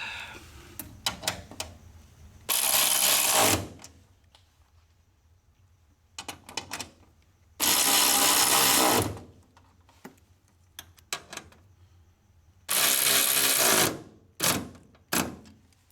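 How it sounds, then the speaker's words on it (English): Three 6mm bolts threaded back into a Maytag Neptune drying center cabinet with a ratcheting socket wrench: rapid clicking ratchet bursts alternate with three loud, sustained broadband whirring runs, close up with no talking. "I'm going to go ahead and put these other three 6mm bolts on."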